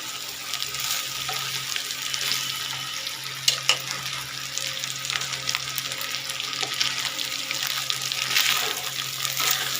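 Leftover cooked rice with ginger and garlic frying in a pan and being stirred, a steady close sizzle broken by scattered scraping clicks of the spoon against the pan, with no talk.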